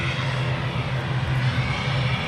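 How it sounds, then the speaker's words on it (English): Virgin Airbus A330 airliner taxiing at Manchester Airport, a steady, loud low engine drone with a constant whine above it, continuous throughout with no talk. "Virgin A330 on the taxi out"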